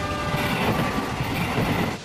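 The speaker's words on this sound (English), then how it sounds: "as the train recedes into the distance away from you" A passing train rumbling by with clattering wheels and a faint lingering horn tone, loud and close before the sound drops away at the end.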